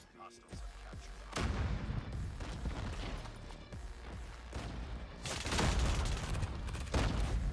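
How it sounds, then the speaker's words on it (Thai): Sustained, dense automatic gunfire in Call of Duty Mobile, loud and continuous, swelling into heavier rapid bursts near the start, around the midpoint and again toward the end. "ยิงอัดเข้ามาเต็มหน้าผมเลย"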